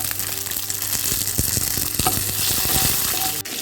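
Green chillies frying with garlic and black cumin in mustard oil in a wok, a loud continuous sizzle and crackle with stirring scrapes, close and unbroken.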